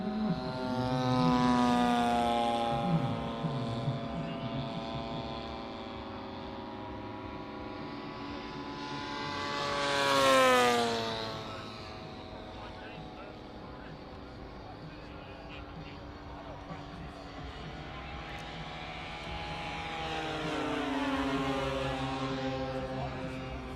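A model Kawasaki Ki-45 Toryu twin-propeller bomber at a model air show, its engines droning and rising to loud passes overhead before fading away, with a voice talking in the background.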